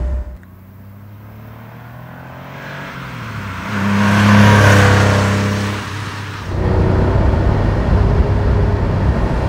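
A 1983 Porsche 911 SC Cabriolet's air-cooled flat-six runs and revs, the engine note climbing to a loud peak before easing back, then settling into a steady close rumble.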